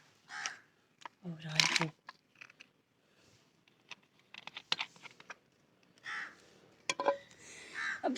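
Crows caw in loud, scattered bursts as they come to eat food, with clicks and rustles between calls and someone speaking briefly among them.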